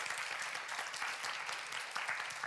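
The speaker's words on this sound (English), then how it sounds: "A big warm round of applause for them" Audience applause for panel speakers at the close of a conference session on social innovation, a steady dense clapping of many hands with no voices over it.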